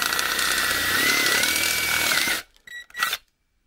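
A step drill bit in a power drill bores out an existing hole, grinding steadily and loudly for about two and a half seconds, then stopping, followed by two short bursts.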